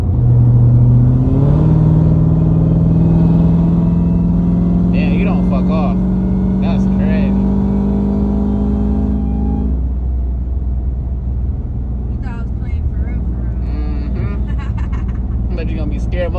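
A Dodge Hellcat engine revs hard as the car accelerates, its deep rumble loud and steady throughout while people talk over it inside the car.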